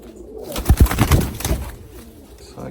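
Show pigeons, Hünkari and Modena breeds, cooing close by, a short burst of low, throaty, rhythmic coos that then fade into quiet.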